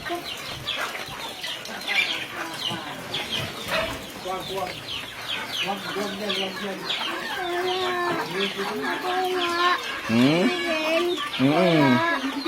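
Chickens and chicks on a rural farm clucking and cheeping close by, with sharp bursts of louder clucks and a flap of wings, while people talk over them throughout.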